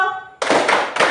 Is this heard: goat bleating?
no